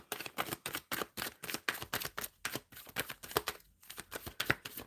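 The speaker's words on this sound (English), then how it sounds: "Shuffling for Jazz" Tarot cards being shuffled, a quick rhythmic series of close, crisp riffling snaps and flicks that repeats steadily for several seconds at low volume.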